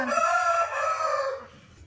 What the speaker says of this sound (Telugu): పక్కన కోళ్ళు ఉన్నాయి, కొంచెం పట్టించుకోమాకండి, అరుస్తున્నాయి.